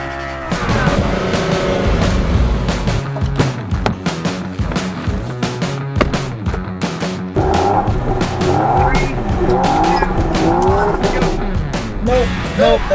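A 2020 Land Rover Defender races an older vehicle off-road, with loud engines revving and rumbling up close, tires scrabbling and squealing over rough ground, and clattering bumps throughout.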